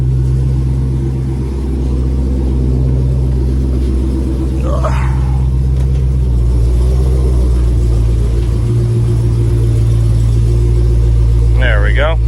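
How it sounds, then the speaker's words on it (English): A Dodge Demon's engine runs steadily at idle, a deep continuous rumble that holds the whole time, with a couple of brief higher squeaks or chirps over it. "So we're gonna let the engine kind of do its thing for a minute"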